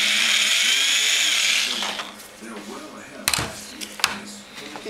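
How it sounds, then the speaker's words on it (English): A high, whining power drill runs steadily for about two seconds drilling a hole in a gun body, then stops, followed by a few sharp clicks and knocks nearby. "Drill a hole right there."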